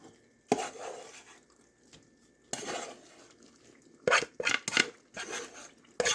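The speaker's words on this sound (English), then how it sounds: "Okay, now we're going to add our rice to our concoction. Mix it up." Rice being stirred into a stuffed pepper casserole mixture, with scraping and clinking of a utensil against a dish in short bursts, quiet and close, with no talking.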